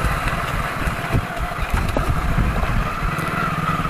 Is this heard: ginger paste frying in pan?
no